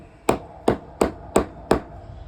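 Rubber hammer giving light taps to a Taurus TX22 pistol part: five short, evenly spaced knocks at close range, each quick and fading fast, with no talking.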